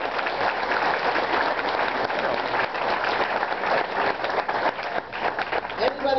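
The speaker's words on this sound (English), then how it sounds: "Give her a thunderous round of applause" Audience applauding loudly as a woman is called up onto a comedy stage, a dense, continuous roar of many hands clapping with cheering voices mixed in, sustained throughout.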